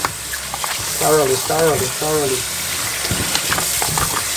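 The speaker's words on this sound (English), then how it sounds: "So using the vinegar, you wash it thoroughly." Raw chicken being washed with vinegar gives a steady, close wash of running, splashing water throughout, with a brief humming voice partway through.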